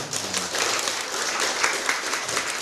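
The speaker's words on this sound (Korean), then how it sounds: "큰 박수 한번 드릴까요?" Listeners at a counseling psychology department lecture break into a big round of applause, a steady wash of many hands clapping together without speech.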